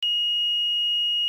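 A multimeter's continuity tester, probing the pads of a drone ESC, gives a single steady high-pitched electronic tone that sounds clean and unbroken for just over a second, with nothing else heard.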